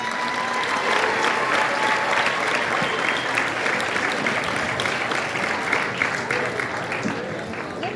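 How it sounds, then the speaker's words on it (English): Sustained applause from a large crowd at a graduation ceremony, steady dense clapping that fills the whole stretch, loud and continuous. "One last round of applause for welding."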